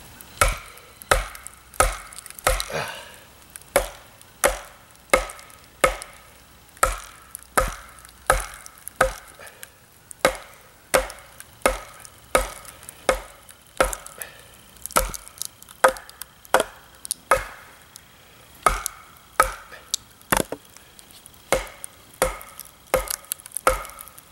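Heavy blows from a Schrade SCHF45 knife strike tough wood over and over in a steady rhythm, each sharp crack followed by faint splintering, close and with no talking.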